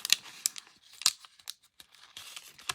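Crunchy old book pages being handled, a run of sharp crinkling and rustling bursts with brief quiet gaps between them, close by and alone.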